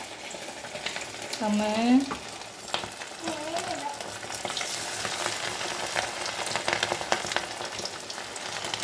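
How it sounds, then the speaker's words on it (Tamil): Quail pieces frying in hot oil give a continuous, crackling close sizzle with bursts of popping throughout, while a voice briefly talks over it near the start. "நல்லா பொரிய விட்டு எடுப்போம் ஃப்ரெண்ட்ஸ்"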